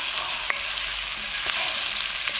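Zucchini and chickpeas roast in a hot pan, giving a steady soft sizzle with a few faint clicks of stirring and no talking.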